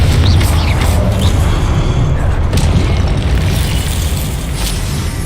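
A Confringo fire spell bursts in Hogwarts Legacy, a loud booming blast with a rumbling low end that lingers through game combat noise for the whole stretch.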